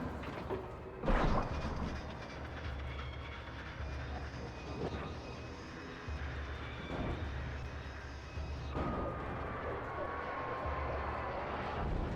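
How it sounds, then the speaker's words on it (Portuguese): A helicopter in the video game Alan Wake flies overhead, heard as a sustained loud engine and rotor roar with a sharp burst near the start, holding steady and near throughout. "Ah, estão atrás do helicóptero."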